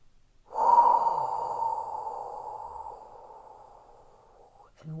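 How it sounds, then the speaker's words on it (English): A slow, deep breath drawn in during a guided meditation, one long steady airy inhale close to the microphone that gradually fades over several seconds, followed by a faint start of voice. "Take another breath in."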